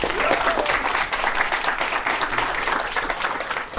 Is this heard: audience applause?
yes